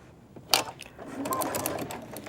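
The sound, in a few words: sewing machine stitching the side seam of a diaper bag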